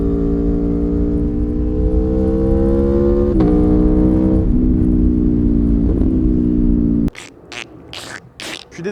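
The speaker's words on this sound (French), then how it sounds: "Un terrifiant V4 de 1100 cm3 et qui fait 175 chevaux" An Aprilia Tuono V4 motorcycle with a 1100 cc, 175-horsepower V4 engine drones loudly and steadily with slight pitch dips for about seven seconds, then cuts to gusty rushing bursts.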